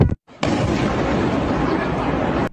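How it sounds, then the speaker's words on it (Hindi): Firecrackers burst in a street in China, a dense, loud crackling barrage that starts abruptly after a short pause and continues steadily until it cuts off. "ऐसे पटाखे रास्तों में फूटते रहते हैं"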